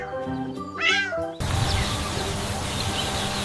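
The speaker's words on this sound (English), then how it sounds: "This is a farm cat." A farm cat gives one clear, close meow, followed by a steady wash of outdoor background noise with no further calls.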